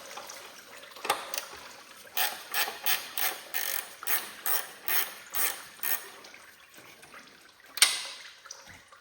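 A bolt is worked loose on a Cub Cadet 1782 Super garden tractor during engine removal, with a run of about ten even ratchet clicks in a steady rhythm, close up and with no speech.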